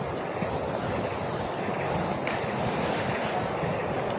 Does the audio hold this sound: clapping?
no